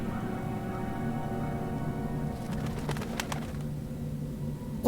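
Bird calls from a crow character in the game Dreamfall: The Longest Journey, soft cooing and chirps over a steady ambient background, with a brief sharper rising call at the very end.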